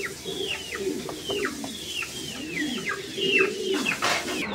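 Pigeons at a pigeon sale coo in repeated soft, rolling calls close by, several birds overlapping in a steady rhythm with a few brighter chirps mixed in.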